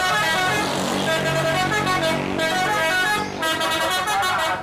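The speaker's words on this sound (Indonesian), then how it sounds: "Kalau yang ini namanya bus telolet teman-teman." A toy bus's telolet horn plays a loud, continuous multi-tone melodic honking close by, running for several seconds with only a brief dip before resuming.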